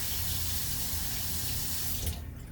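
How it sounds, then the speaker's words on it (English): Water runs steadily from a tap into a sink, a close, constant rushing splash that stops abruptly near the end. "let me run some water and see if I can get this off"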